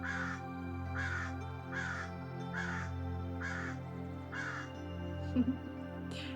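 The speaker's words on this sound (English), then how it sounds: "Sounds like there's a crow out there that wants to be a part of this meditation." A crow caws six times in a slow, even series, somewhat distant, over a low steady hum.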